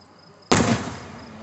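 A single sharp firework bang goes off suddenly at a 2021 fireworks display, close and loud, then decays into a brief rumbling tail with no voices.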